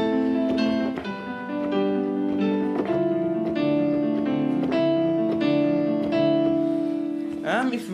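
A piano plays a steady melody over sustained lower chords, with clear repeated note attacks throughout.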